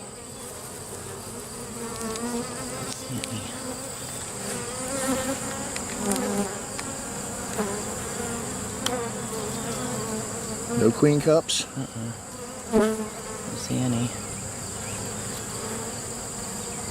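Honey bees swarm and buzz around an opened beehive in a dense, continuous drone that stays close, while a person talks quietly now and then over it.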